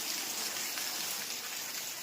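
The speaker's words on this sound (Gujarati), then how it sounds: "જોરદાર વરસાદ ચલાલામાં ચાલુ થઈ ગયો છે, આપ જોઈ શકો છો." Steady heavy monsoon rain pouring down in Chalala, a dense continuous hiss with no voices, loud and close throughout.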